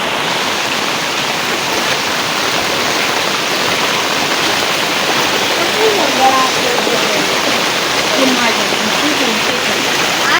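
Heavy monsoon rain in Sambalpur, with water flowing through a residential colony and into homes, makes a dense, loud, continuous roar that stays even throughout.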